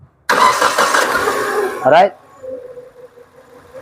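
A Naza Citra car engine cranks and catches with a brief revving burst, then settles into a quiet, low idle close by as someone speaks briefly.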